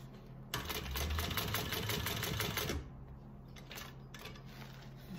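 A sewing machine stitches a bag pocket in one steady, loud run of rapid mechanical whirring lasting about two seconds, followed by quieter handling sounds and faint clicks.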